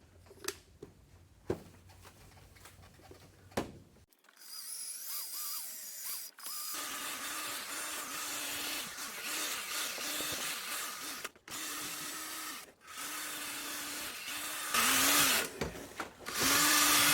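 Scratched, fogged headlight on a Toyota MR2 being machine-polished, a steady broadband power-tool whir running for about thirteen seconds after a few short knocks and a brief pause, with small dips and a louder surge near the end.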